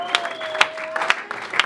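A church congregation applauding for Jesus during a worship service, steady moderate clapping with a few sharper peaks, a faint sustained tone running underneath.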